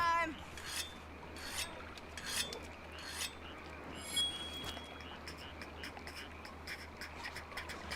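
A weapon, a hammer, is honed with a whetstone in the video game Monster Hunter Rise, giving repeated raspy scraping strokes in a steady rhythm at low volume.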